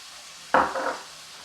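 Garlic being stir-fried in a pan with a spoonful of soy sauce and honey for Korean baby anchovy banchan: one short, close scraping and sizzling burst of about half a second, then quiet.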